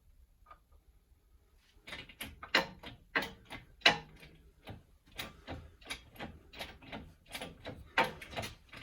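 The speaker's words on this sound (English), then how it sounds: "we'll just use this impact socket for the final bit" An impact socket tightens a bolt on the crankcase of a 1977 Maico MC440AW motorcycle during a restoration, giving a run of sharp mechanical clicks and rattling bursts in an uneven rhythm. The sound is close and moderately loud, with no talking.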